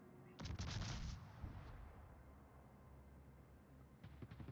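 Naval gun salvo from the Chinese cruiser Lanzhou in World of Warships, a loud booming burst of several overlapping shots near the start that then rolls into a long, low rumble, with a few sharper cracks returning at the end.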